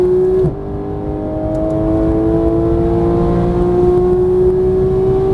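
Porsche GT3 engine pulling hard on a race track, a loud steady rising drone as revs climb after a brief dip, close and continuous from the cabin.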